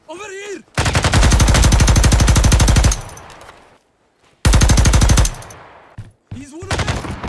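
A light machine gun fires in the video game Ground Branch, two long loud sustained bursts of rapid, evenly spaced shots separated by a brief pause, with a short spoken voice before the first burst and after the second.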